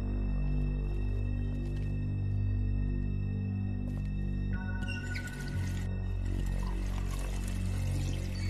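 Water pours in a kitchen in the video game The Wolf Among Us, a steady trickling stream over a low humming background, growing brighter and splashier toward the end.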